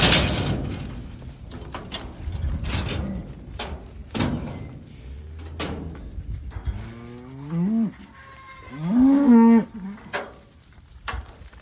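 Cattle moo at a bull turn-out with cows, two drawn-out, rising lows in the latter half, preceded by scattered knocks and rustling outdoors; no talking.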